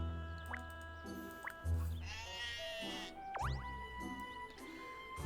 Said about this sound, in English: we're talking about a goat now